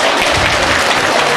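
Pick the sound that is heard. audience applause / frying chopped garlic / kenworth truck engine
audience applause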